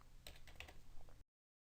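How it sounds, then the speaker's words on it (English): Typing on a computer keyboard while entering data in Excel, a quick run of soft, close key clicks lasting about a second before cutting to silence. "in this case I'm going to have to retype"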